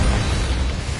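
A Confringo spell explosion in Hogwarts Legacy, a single loud, close, roaring burst of fiery noise that fills the whole moment and holds steady without a break.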